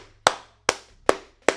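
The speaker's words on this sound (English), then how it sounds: "Clap it up." Four sharp hand claps in a slow, even rhythm, each crisp and dry with a quick decay, close and alone in a quiet room.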